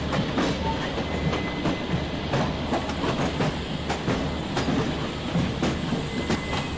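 A WDP4B diesel locomotive hauling the Darjeeling Mail rolls into a station platform in the MSTS train simulator game, with a steady, dense rumble and rhythmic wheel clatter that runs throughout.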